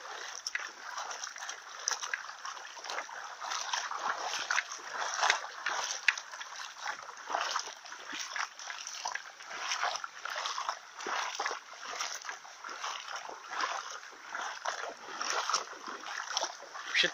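Splashing water in a heavily flooded spot, with irregular sloshes and splatters repeating throughout at moderate, somewhat muffled loudness.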